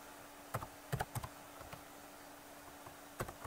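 Quiet keyboard typing, a few scattered clusters of light key clicks with pauses between them, close by and faint, no talking.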